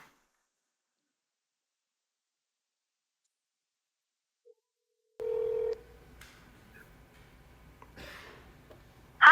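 A phone places a call to an AI agent: silence, then a short steady dial tone, followed by faint line noise, soft clicks and tones, with no one speaking.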